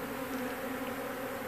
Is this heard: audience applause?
no